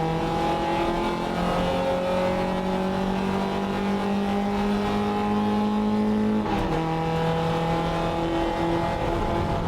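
A race car accelerates hard down the back straight during a wet race, its engine loud and close as the pitch climbs. There is a sharp upshift partway through, then it keeps pulling.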